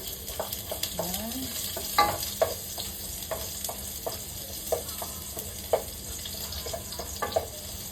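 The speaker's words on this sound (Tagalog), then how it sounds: "Sigisi lang natin for 1 minute bago natin i-sunod yung sibuyas" Garlic sautéing in a pan for chicken feet adobo, a steady soft sizzle broken by scattered scrapes and clinks of stirring, with one brief rising squeak early on.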